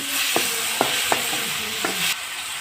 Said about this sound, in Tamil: உப்பு போட்டு வதக்கணும்.